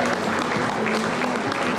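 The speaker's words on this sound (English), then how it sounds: "Can we get a round of applause, please?" At an Eid dinner hall, an audience breaks into a short burst of steady, full applause, evenly loud and close throughout.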